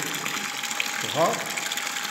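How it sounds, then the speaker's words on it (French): A small water cascade feeds a lake in a homemade mechanical Christmas nativity scene, giving a steady soft trickling hiss with faint mechanical whirring. A short voice sound briefly rises partway through. "la cascade du lac d'eau et le lac d'eau."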